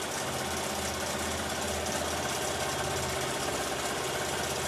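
An embroidery machine stitching an in-the-hoop beehive design, giving off a continuous rapid mechanical chatter and hum at an even level with no talk.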